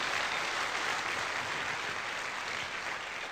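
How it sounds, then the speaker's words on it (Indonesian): Dense, steady applause from a seminar audience in Cirebon, many hands clapping together without pause for the whole stretch, fairly loud and even with no voices over it. "mohon aplaus untuk Anda semua Bapak Ibu"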